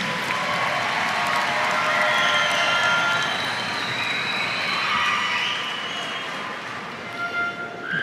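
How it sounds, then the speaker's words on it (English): Sustained applause and cheering from an audience at a graduation commencement ceremony after the senior chorus sings, a dense steady clapping wash that holds loud throughout and tapers slightly near the end. "Big round of applause."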